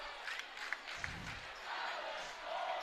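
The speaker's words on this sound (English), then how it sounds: "chants coming from the crowd" Crowd chanting at the Little 500 men's bicycle race, a broad rhythmic roar of massed voices from a distance, rising and falling with a few sharp shouts poking through.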